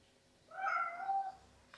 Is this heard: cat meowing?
yes